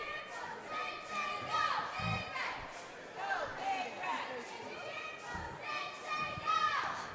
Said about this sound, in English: And I hear the crowd's going wild.